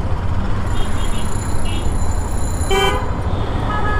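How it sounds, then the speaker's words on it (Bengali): A Hero Xtreme 125R motorcycle horn gives one short, loud honk about two-thirds of the way in, over a steady rumble of engine and road noise. "বাট হর্নটা দিলেই তো মেজাজটা খারাপ লাগতেছে।"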